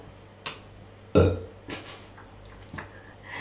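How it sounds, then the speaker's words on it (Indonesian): A person burps once, loud and close, with a few softer throat and mouth sounds around it in an otherwise quiet room. "Maaf ya, sendawa lagi."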